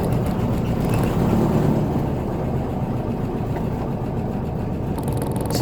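A Volkswagen Bug with freshly broken-in piston rings drives along, its engine giving a steady, loud, close rumble mixed with road and cabin noise and no talking.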